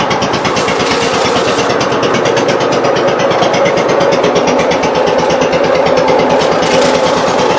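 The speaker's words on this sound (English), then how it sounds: "So the blower's working there." An Ingersoll garden tractor engine runs steadily and loud with its blower spinning, a constant close-up drone with a rapid pulsing beat and no pauses.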